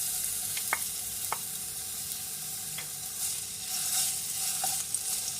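Garlic sizzling in a tablespoon of oil in a pan while making spring roll filling, a steady soft fry with a few sharp clicks of a spoon stirring against the pan.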